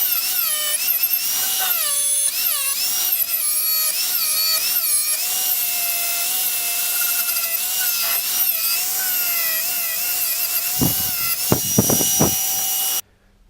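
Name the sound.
twist knot wire wheel grinder removing paint from Land Rover door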